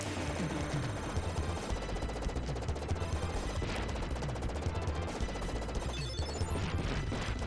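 Rapid machine gun fire in Contra III: The Alien Wars on the SNES, a dense continuous stream of shots with explosions and crashes layered over loud game music throughout.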